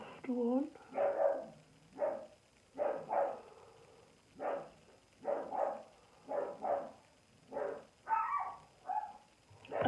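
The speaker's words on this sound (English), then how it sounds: "it's just dogs barking. They saw someone outside." Indoor dogs bark repeatedly at someone outside, with about a dozen separate woofs spaced through the stretch, moderately distant and fairly quiet.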